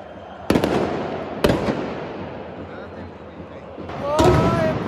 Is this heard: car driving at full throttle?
no